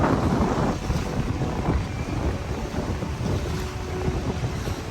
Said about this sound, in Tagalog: Ang laki ng alon. Diyos ko. Kaya pala nag-cancel ang Ocean Jet. Mas maliit na barko. Malaki. Malakas ang hangin.